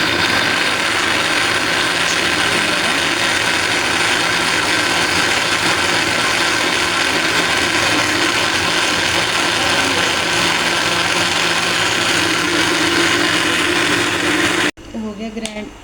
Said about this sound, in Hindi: अब हम ग्राइंड करते हैं इसको।